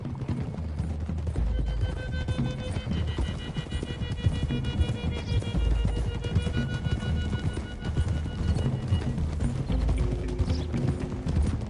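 Horses clip-clop at a steady gallop in a video game, their hooves running in a dense, continuous rhythm under a layer of background music.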